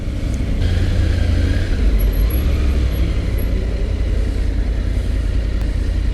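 A bus rumbles past at night in traffic, with steady low engine and road noise throughout and a brief hiss like an air brake near the start, heard from a motorcycle on the road.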